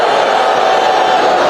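A large crowd at a political speech fills the air with a dense, continuous roar of applause and cheering, loud and unbroken throughout.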